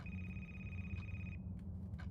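A telephone rings inside a video game, a steady electronic bell tone holding for over a second before it cuts off, followed by a few faint short blips over a low, constant background hum.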